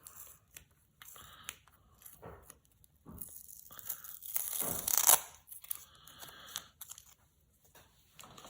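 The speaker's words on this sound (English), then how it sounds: "Let's see if I can get this tape off without destroying the cards" Tape is peeled off a pack of playing cards in a string of close, crisp tearing and crinkling bursts, quiet at first and building to one long loud rip midway, then several smaller pulls.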